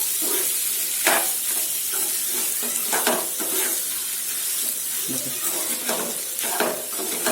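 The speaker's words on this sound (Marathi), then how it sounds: "त्याच्यात आपण बटाटे आपले कुस करून टाकूया हलक्या हाताने छान मसाल्यांमध्ये एकजीव करून घेऊया" Potatoes being stirred into spices in a pan for a dry potato sabzi, with a steady sizzle of frying under repeated scraping and stirring strokes, close and moderately loud, with no talk.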